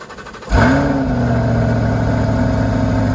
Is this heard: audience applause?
no